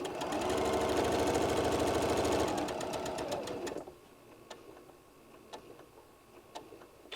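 A sewing machine stitches a bean bag seam in a fast, steady run of close stitching that stops partway, leaving scattered ticks and small handling sounds.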